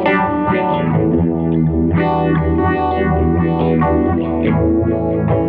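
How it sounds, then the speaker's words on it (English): Electric guitar through a ZVEX vibrato and phaser pedal, notes wobbling and swirling with pronounced pitch vibrato and sweeping phaser texture, played loud and close in a continuous phrase. "This is vibrato and phaser, and it makes a really, really interesting set of sounds for you to mess with."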